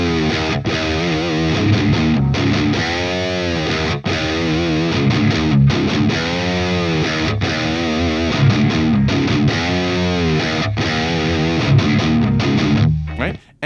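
Heavily distorted electric guitar in drop D tuning plays a chugging, bending riff, loud and close, with repeated rhythmic phrases and no talking until a sudden stop.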